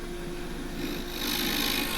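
A 1/2 inch spindle gouge cuts pistachio wood on a lathe while turning a bowl, giving a steady, close, rasping hiss that grows slightly louder and brighter midway through.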